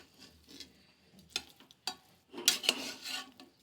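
Beetroot pulao being stirred in a pan, with soft scraping strokes and a few sharper clinks of the spoon against the metal, louder toward the end, no talking.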